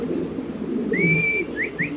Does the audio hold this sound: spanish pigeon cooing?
yes